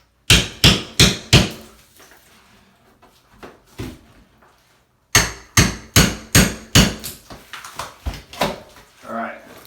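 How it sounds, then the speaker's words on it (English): Repeated sharp hammer strikes and prying knocks as a tiled shower wall is broken loose and pops off, coming in two loud rhythmic bursts separated by a quieter pause with scraping and a voice. "so now you can hear it, the wall's popping off."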